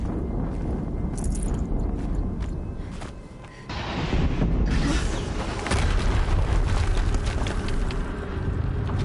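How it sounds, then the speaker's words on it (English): An explosion in the video game Horizon Zero Dawn booms as a broad, rumbling blast, with a brief lull before the roar swells back up, mixed with creaking mechanical game sounds. "Another explosion."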